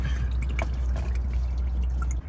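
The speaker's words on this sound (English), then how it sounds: "all the oil is done draining. Right now it's just dripping a little bit" Motor oil from the drain of a 2008 Nissan Maxima dripping into a catch pan, small close irregular drips and light trickling over a low steady hum, no voices.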